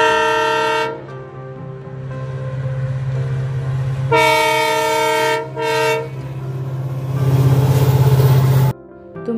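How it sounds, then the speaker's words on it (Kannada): Near a railway gate, a train sounds its horn in long loud blasts over a continuous rumble of rolling wagons, with the horn returning as it passes close by. "ತುಂಬ ಟ್ರೈನ್ಗಳು ಓಡಾಡ್ತವೆ ಇಲ್ಲಿ"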